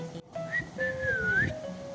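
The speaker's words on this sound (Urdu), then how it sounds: "انہی کتابوں میں سیٹی کی آواز آئی" Whistling in a storybook scene among new books at a bookbinder's shop, a short run of bright gliding tones rising and falling over about two seconds, clear and close.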